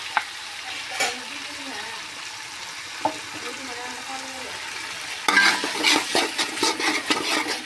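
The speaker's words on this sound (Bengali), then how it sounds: "এখন একসঙ্গে মশলার সাথে ভালো করে কষিয়ে নিব, যাতে টমেটোর কাঁচা গন্ধটা বেরিয়ে যায়" Raw tomato paste fries with spices as it is stirred, soft intermittent scraping and knocks that give way to a louder, busier sizzle near the end.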